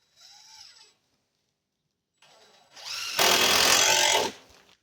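A power drill drives screws through boards and an old, weathered tarp: a short, quieter whir, then one loud, sustained burst of drilling lasting about a second, close by, with no talking.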